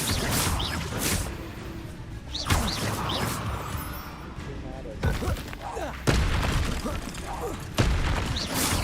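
Confringo blasting spells in the Hogwarts Legacy video game go off as a string of sharp, loud, booming explosions at irregular intervals, with crackling debris and clattering effects between the blasts.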